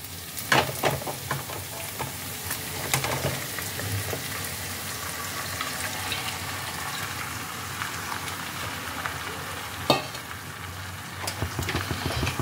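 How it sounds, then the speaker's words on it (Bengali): Marinated chicken hisses and crackles as it is stirred into fried masala in a pan, a dense steady sizzle with occasional spoon scrapes and a sharp clack near the end, no voices. "এবার আমি এর মধ্যে দিয়ে দিচ্ছি ম্যারিনেট করে রাখা চিকেনটা।"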